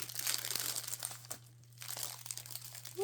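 Crinkling of a plastic bag of faux glitter snow from a dollar store, a steady close rustle with a short quiet gap midway, over a faint constant hum.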